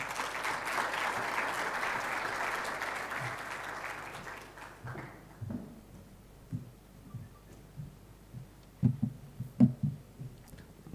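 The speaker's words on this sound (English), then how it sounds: "Please let's escort her with a big round of applause as she comes." An audience at a mining investment conference applauds to welcome a speaker, dense applause that fades after a few seconds into scattered footsteps and knocks in a large room.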